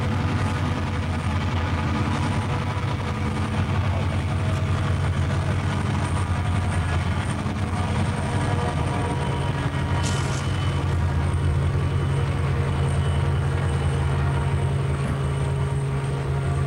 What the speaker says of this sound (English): he was going to have that train come through right while I was up here, and he kept his word.